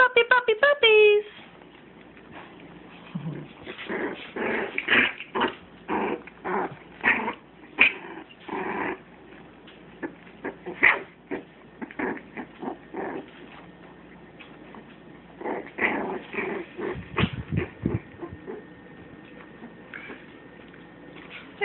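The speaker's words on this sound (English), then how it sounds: "Puppies." Tiny 23-day-old Pembroke Welsh Corgi puppies growl, yip and whimper in short bursts while playing nearby, with a person talking softly over them at times.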